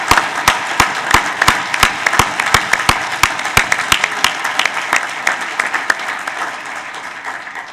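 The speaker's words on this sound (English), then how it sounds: "please join me with our applause in congratulating the November graduates of the Naval War College" Loud audience applause at a Naval War College graduation ceremony for the November graduates, with dense clapping and sharp individual claps standing out, steady throughout and easing slightly toward the end.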